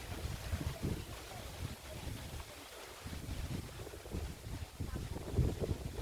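Wind blows across an open village field beside stacked jute sticks, gusting against the microphone in uneven low rumbling buffets that rise and fall, with no talking.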